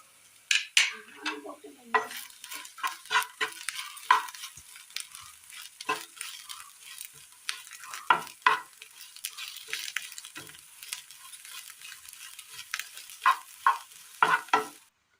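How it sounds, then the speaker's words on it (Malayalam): Vegetables sauté in a pan for a Kerala recipe, with a steady close sizzle broken by frequent sharp scrapes and knocks of a spoon stirring against the metal, with no talking. "ഇതിന് നന്നായി ഒന്ന് വാട്ടിയെടുക്കാം."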